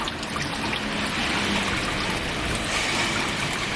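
Water trickling in a steady, continuous wash outdoors in Kakunodate, Japan, the supply used for making miso and soy sauce, fairly loud and unbroken with no voices.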